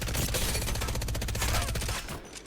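Rapid automatic gunfire from a turbocharged energy weapon in the Apex Legends battle royale game, a dense, loud burst of shots sustained for about two seconds before cutting off, with no talking.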